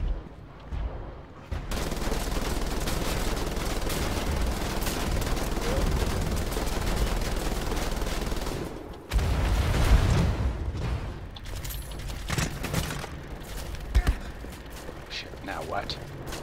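Gunfire in Wolfenstein: The Old Blood, with sustained dense bursts of automatic fire and booming impacts over many seconds, then a pause and louder renewed volleys thinning into scattered sharp shots, with game voices mixed in.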